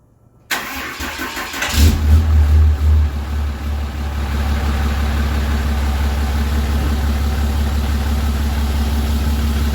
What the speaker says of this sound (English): So this thing hasn't been started in a couple months. I just want to get it fired up.